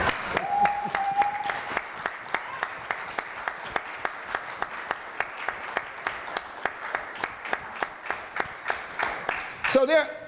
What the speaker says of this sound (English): I'll wait for your applause.